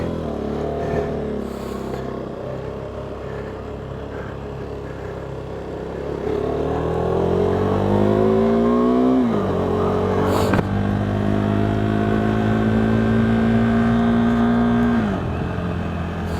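A KTM 390 Duke motorcycle with a faulty throttle revs loudly and continuously, its engine note climbing steeply, dropping, then holding a steady high pitch before falling again, close up with no talk.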